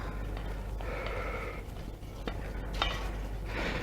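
A spatula or whisk works petit four batter and flour in a bowl, giving soft, close scraping strokes with a few light clicks over a steady background hiss.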